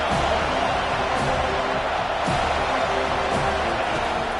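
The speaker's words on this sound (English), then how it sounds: "Decibels rising as the crowd gets behind this defense on 3rd down." A stadium crowd at the Florida State vs Florida college football game roars for the defense on third down, a loud, dense, unbroken wall of cheering that holds steady throughout.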